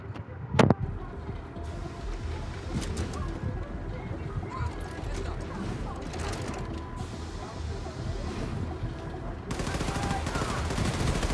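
Rapid gunfire rattles on in the shooter game Wolfenstein II: The New Colossus, with one sharp early shot, then steady bursts of shooting and mechanical clatter under game noise.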